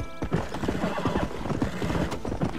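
In the video game Red Dead Redemption, a horse's hooves clip-clop in a fast, continuous gallop while a loud neigh breaks out near the start, close and dense.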